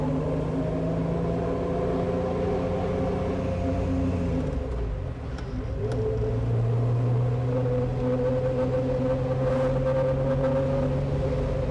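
A Pontiac Fiero drives along the road, its engine a steady low hum with sustained tonal drone that dips briefly and shifts pitch as it changes gear, with road and wind noise alongside.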